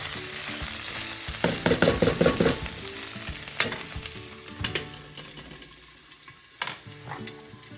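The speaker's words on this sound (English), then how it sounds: "Give our corn a quick stir." Corn frying in a pan is stirred with a utensil, giving scraping, sizzling strokes and a few sharp knocks against the pan, close by, at an outdoor farmers' market cooking demo.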